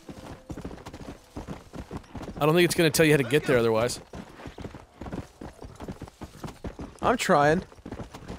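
Horse hooves clip-clop in a quick, steady rhythm in the Western video game Red Dead Redemption, continuing throughout beneath people talking loudly.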